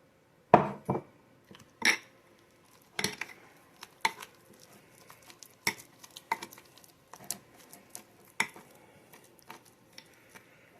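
Mixing no-bake coconut cherry cookie dough with coconut oil in a bowl, with a utensil scraping and clinking against the bowl in irregular bursts, close and fairly quiet, no talking.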